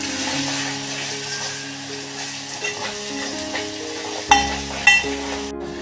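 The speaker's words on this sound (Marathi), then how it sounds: "आता कांदा आणि टॅमॅटो चांगला मऊ होईपर्यंत ना मी परतून घेते" Onion and tomato sautéing with chilli powder, turmeric, salt and spices in a pan for a Malvani-style jackfruit seed curry, a steady close sizzle with a couple of sharp stirring clicks near the end.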